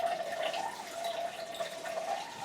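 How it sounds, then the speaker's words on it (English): Room-temperature tap water pours into a container for Italian bread dough with a faint, steady trickle. The filling tone rises gently as it goes. "Weigh out 85 grams of room temperature water."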